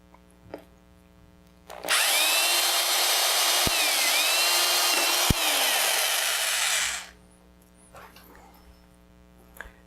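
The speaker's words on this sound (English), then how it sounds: "I'm going to drill a pilot hole right in about that spot." A power drill whirs loudly for about five seconds drilling a pilot hole in a 2017 Harley-Davidson Road Glide Special, pitch dipping as the bit bites into material, with quiet pauses before and after.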